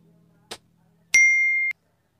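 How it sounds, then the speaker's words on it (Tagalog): A soft click followed by a single bright, clear ding that rings briefly and stops cleanly; otherwise quiet. "Click the notification bell"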